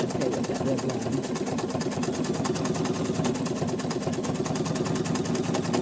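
A sewing machine runs steadily, satin stitching around the edge of an applique, its rapid needle rhythm making a continuous mechanical whir throughout.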